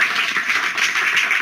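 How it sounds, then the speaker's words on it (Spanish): Applause from a conference audience welcoming an engineer to speak at a renewable energy and climate change talk, a dense steady patter of many hands clapping together without pause. "Demos la bienvenida con un fuerte aplauso a la ingeniera."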